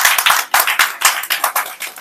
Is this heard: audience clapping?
yes